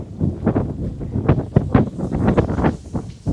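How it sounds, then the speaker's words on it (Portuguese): Strong wind sweeps past outdoors on the rocky coast at Arraial do Cabo, buffeting the microphone in loud irregular gusts and rumbling rushes, with no voices. "E tá um vento forte, hein?"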